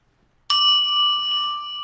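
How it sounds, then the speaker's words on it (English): A single bell struck once during a distant Reiki healing ceremony, a sudden clear ding after near silence that rings on with a long, sustained, slowly fading tone, alone and close. "You'll hear the dinging of a bell."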